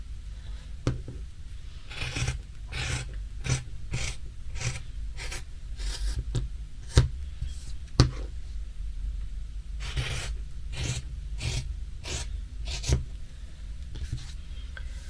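A marker or chalk drawn across fabric while marking out a leggings pattern for sewing makes short scratchy strokes in quick bursts, with a few sharp taps in between, close by and fairly quiet.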